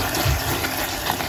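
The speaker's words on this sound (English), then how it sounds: "So drop the vegetable stock inside of it." Vegetable stock pours steadily into a container, a continuous close splashing gush of liquid with no pauses.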